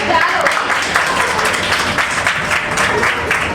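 Steady, dense applause from a crowd, filling the whole stretch with continuous clapping and some voices mixed in.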